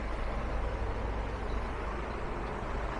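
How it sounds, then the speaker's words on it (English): A tour bus pulls in on a street in Yeroskipou, Cyprus, its engine a steady low rumble with broadband traffic noise held at a constant level throughout, no voices. "the tour bus is coming in more and more"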